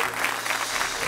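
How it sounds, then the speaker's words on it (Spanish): A brief burst of studio audience applause during a comedy monologue, a dense patter of clapping heard on its own. "Un aplauso para el creador de la sombrilla wireless"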